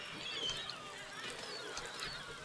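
Game birds in Besiege honk in a cluster of goose-like calls over a busy background, moderately loud and fairly near.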